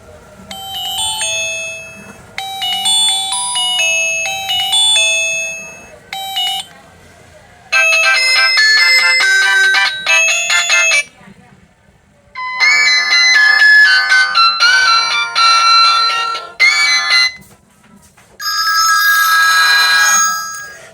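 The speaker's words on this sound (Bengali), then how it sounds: "আমরা এক নজর দেখে নেব যে ফোনটির রিংটোন সাউন্ড কেমন ছিল" A series of ringtones from a Lava A3 Power keypad mobile phone plays, bright beeping melodies in short bursts separated by brief silences, loud and clear with no talking.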